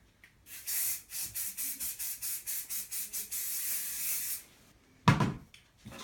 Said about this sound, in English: then you finish with more hairspray